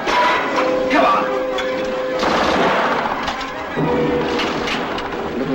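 Gunfire crackles through a World War II film battle scene, with dense bursts and scattered shots layered under shouted voices and a steady background din.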